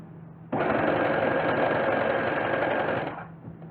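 A sewing machine runs in one steady burst of about two and a half seconds, whirring as it stitches a seam on a pair of pants, then slows and stops.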